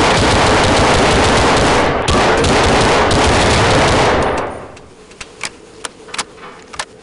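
Loud sustained automatic gunfire rattles for about four seconds in the Global Operations video game set in Chechnya, then cuts off, followed by a few scattered sharper shots and clicks.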